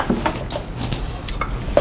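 Dishes and cutlery clinking as party food is plated in a kitchen, several light separate knocks and scrapes close by with short gaps between them and no talk.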